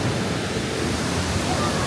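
A waterfall at the Phantasialand theme park in Germany gives off a dense, even roar of rushing water that stays constant throughout.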